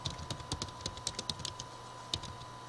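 Close, quiet clicking of keys on a computer keyboard while entering data into an Excel attendance spreadsheet, an uneven run of separate taps with short pauses and a final isolated keystroke.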